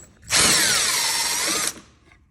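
A power tool backs out a T25 Torx screw on a 2024 Ski-Doo Backcountry 850 X-RS snowmobile. One loud, close whirring burst lasts just over a second, then stops.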